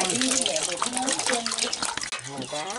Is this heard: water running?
yes